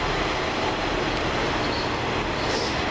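Northern Class 156 unit 156461 rolls into Rochdale station bound for Todmorden, a loud, continuous roar of wheels and engine filling the platform, with faint high squeals near the end and no talk.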